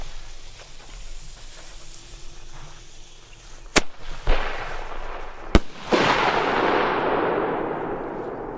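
Fireworks go off beside a lake: a few sharp cracking reports, then a loud boom that trails into a long, sizzling crackle, heard at moderate distance against a low outdoor background.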